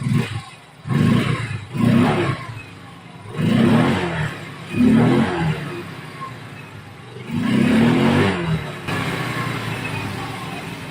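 A Yamaha Mio 125i scooter engine with a misfire and a non-original throttle position sensor runs close by, its revs repeatedly swelling in loud bursts and dropping back toward idle in an uneven rhythm.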